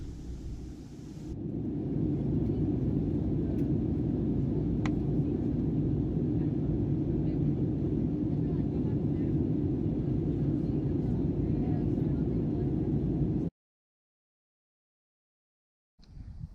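Loud, steady engine roar from inside a passenger plane taking off from Athens, a broad rumble holding for about twelve seconds before cutting out abruptly, then resuming faintly.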